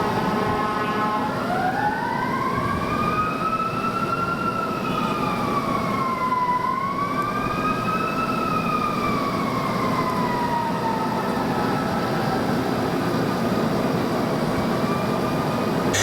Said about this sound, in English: So just have a look at these sirens.